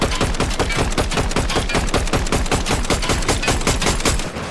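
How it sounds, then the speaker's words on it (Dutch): Rapid automatic gunfire in the video game Fortnite, a dense rattling stream of sharp shots in quick regular succession, loud and close, running nearly the whole time. "Hij is aan het schieten op mij."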